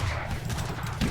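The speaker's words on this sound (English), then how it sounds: "Taking some hard volleys there." Musket volleys in a strategy video game, a dense, continuous crackle of massed gunfire with rumbling low end, loud and steady throughout the short stretch, with no talking.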